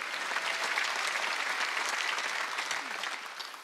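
Congregation clapping during a Wednesday church service, a dense, even burst of applause sustained for several seconds before tapering off at the end.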